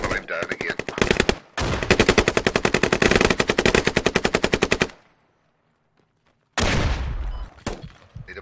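Video game gunfire during a squad assault round: long rapid bursts of automatic fire, loud and close, break off into near silence before a fresh burst of shots starts up.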